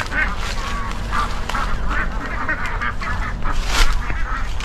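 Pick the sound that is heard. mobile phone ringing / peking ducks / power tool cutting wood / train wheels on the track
peking ducks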